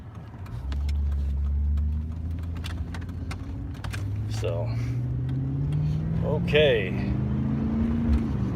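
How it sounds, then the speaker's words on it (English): A car engine rumbles steadily and roars louder partway through, with people talking over it. "you hear that engine roar?"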